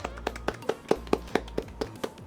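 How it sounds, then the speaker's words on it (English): A single person claps their hands about a dozen times in a steady, fairly quick rhythm, each clap a sharp close slap over a low background hum. "I will clap again"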